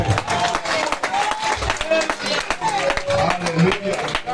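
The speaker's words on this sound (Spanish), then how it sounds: "Alguien tiene que aplaudir al Señor en esta noche." A church congregation applauds during an evening Spanish-language worship service, giving steady clapping throughout and mixed with voices and music.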